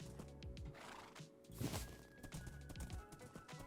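A horse whinnies in the Minecraft video game, one faint rising neigh among quiet game sounds and hoof clip-clops, with no talking.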